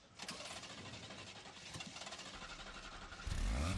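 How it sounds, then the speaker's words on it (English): A car engine turns over with a rapid cranking whir, then catches and roars into a loud, low idle near the end. "Start the engine, please."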